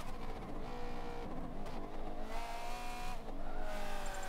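Race car in Forza Motorsport 7 with a little wheel spin and oversteer, engine revving in rising and falling sweeps with tire squeal, steady and fairly quiet throughout.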